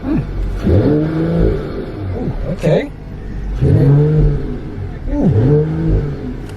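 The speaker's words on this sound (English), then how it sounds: "let's listen to what this thing sounds like, because that 6-cylinder engine in front sounds fruity" A Mercedes-AMG GT53 four-door coupe's six-cylinder engine revs up repeatedly in loud surges, each climbing then falling back, with a brief spoken word between revs.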